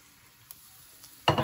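Garlic frying with panch phoron in hot oil, stirred in a pan for an aloo borboti bhaji. After a near-silent stretch, a loud burst of sizzling erupts and continues.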